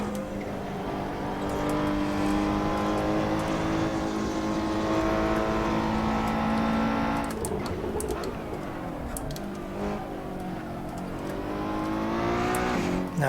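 A race car engine in the Assetto Corsa sim runs at full power, holding a loud sustained high-revving whine, then a quick shift and dip around the midpoint before it climbs again, with no talk over it.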